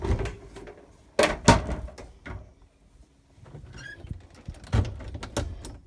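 A shower door in a 2002 Autotrail Dakota motorhome slides and bumps, giving several separate close knocks and rattles with quiet gaps between them, and no talk.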